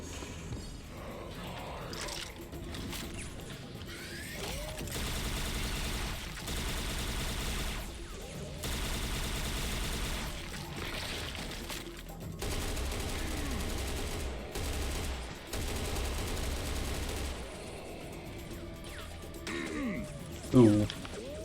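Sniper and automatic gunfire in the shooter game Serious Sam Fusion, with dense bursts of shots rolling through several long volleys over game noise and a sharp loud crack near the end, while someone talks at times.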